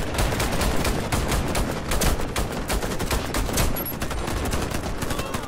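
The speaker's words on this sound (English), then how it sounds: "Try to use as much of my pistol ammo as I can" Rapid, loud gunfire in the Warface shooter game fills the whole stretch. Dense overlapping shots crack out almost without pause, close and harsh, with no gap long enough to separate single pistol rounds.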